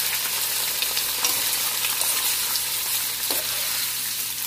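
Mutton sizzles loudly in a karahi over browned onions on a high flame, a constant close frying hiss with faint stirring, no talking.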